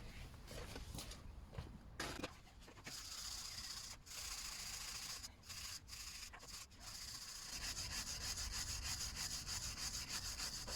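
A wire brush scrubs a Peugeot 308 front suspension top mount part in quick, rough back-and-forth strokes, close and steady with brief pauses between bursts.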